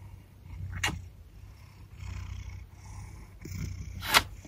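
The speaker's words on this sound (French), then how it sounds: "Tu ronronnes, mon bébé." A house cat purrs up close with a low, pulsing rumble that rises and falls with its breathing. A couple of brief sharp clicks or snuffles break through. No one speaks.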